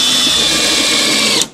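Power drill boring holes in wood ahead of driving screws, a sustained high whine at close range that cuts off abruptly near the end.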